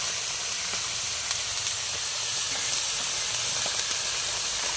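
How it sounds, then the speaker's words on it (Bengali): Vegetables for a Bengali shukto and cabbage dish frying slowly in a pan, giving a steady, close, continuous hiss and sizzle throughout with no talk. "সবজিটা এইভাবে আস্তে আস্তে ভেজে নেব"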